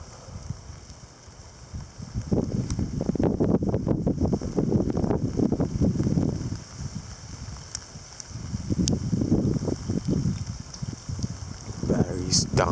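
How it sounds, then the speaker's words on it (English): Gusty wind buffets an outdoor microphone during messy winter weather with sleet and passing showers, rising in broad rumbling surges for several seconds at a time, easing briefly in between, then building again. "It's starting to gust a bit again."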